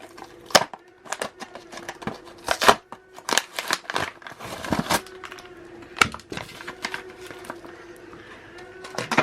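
A vintage Star Wars Clone Wars Mandalorian Super Commando Captain toy is torn out of its blister card packaging, with close, irregular sharp crackles, snaps and crinkles of plastic and card coming in bursts.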